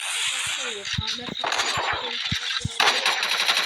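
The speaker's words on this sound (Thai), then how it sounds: "โอ้โหว่ายิงรัวเลย" Rapid automatic gunfire in a video game rattles as a fast, steady string of sharp shots that roughly doubles in density near the end, fairly prominent in a noisy game mix.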